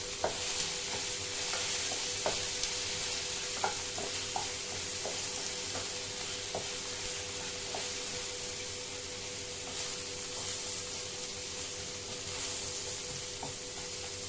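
Tomato and salt fry in a pan for a turkey berry chutney, giving a steady, close sizzle with occasional soft clicks from stirring and no talking.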